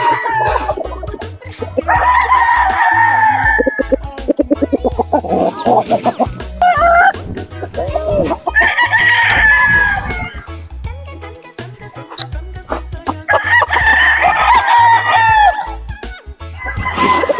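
Several sweater gamefowl roosters crow loudly and repeatedly at close range, each crow a long rising-falling call, with clucking and a dog barking faintly in the background.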